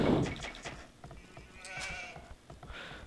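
Several sheep bleat in quick succession over a busy, clicky background in the video game Age of Empires: The Conquerors, the calls moderately loud and overlapping.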